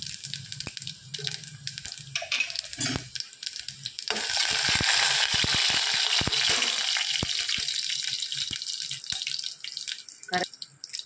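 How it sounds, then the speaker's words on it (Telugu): Hot oil crackles and sizzles steadily as spices temper in a pan before curry leaves and onions go in, with clinks and faint voices nearby; the sizzle swells louder midway through. "పోపు పెట్టుకున్నామండి దీనికి"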